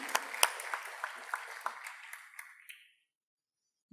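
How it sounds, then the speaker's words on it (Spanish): Short burst of audience applause at a regional innovation panel, brisk clapping that thins out and stops after about three seconds. "Un aplauso para él también."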